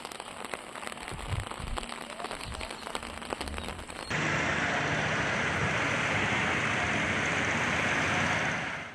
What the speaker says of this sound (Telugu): వైఎస్సార్ జిల్లా వ్యాప్తంగా విస్తారంగా వర్షాలు కురుస్తున్నాయి.